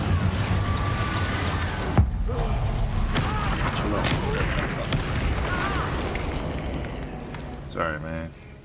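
Confringo blasting curse in the Hogwarts Legacy video game: a sharp explosive boom early on amid ongoing combat thuds and magical effects, with game voices talking over much of the clip.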